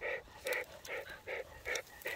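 A puppy that has fallen down pants in quick rhythmic bursts with a few soft whimpers, close and moderately loud, with no talk over it.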